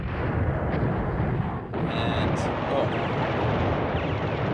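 Artillery barrages in the Command Ops 2 war game form a dense, continuous low rumble of distant gunfire and explosions. The roar stays steady and loud throughout, with a brief dip partway through.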